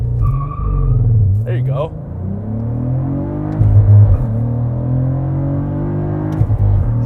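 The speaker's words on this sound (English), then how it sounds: "Floor it. Flat foot shifting." A 2023 Cadillac CT4-V Blackwing launches hard, its engine roaring up through the revs with flat-foot shifts that drop the pitch and snap it back, tires chirping briefly. Loud and close inside the cabin, with a short spoken remark from the driver.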